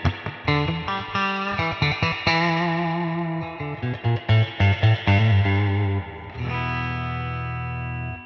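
Electric guitar played through a Surfybear Reverb Compact spring reverb pedal, with twangy picked surf-rock notes and chords ringing into a wet, splashy spring reverb tail, clear and alone with no talking.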